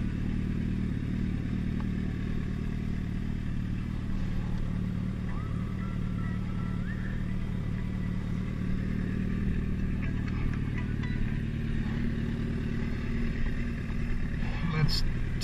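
A motorcycle engine runs with a steady low drone and some mechanical clatter throughout, close and even in level, with no clear revving.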